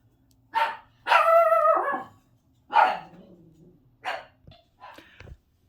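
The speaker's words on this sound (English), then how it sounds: "My son came in and the dog started going crazy." A dog barking excitedly indoors, several loud, close barks and a drawn-out yelp in irregular bursts, ending in shorter, softer yips.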